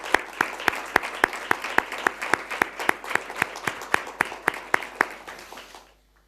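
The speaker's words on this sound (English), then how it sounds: "I think they deserve a round of applause" Audience applause at the closing ceremony of a course on European cultural policy: evenly spaced, sharp claps in a steady rhythm, loud and close, running for about six seconds before stopping abruptly.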